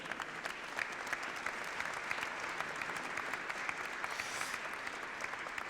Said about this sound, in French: Je vous demande de l'accueillir chaleureusement et de l'applaudir.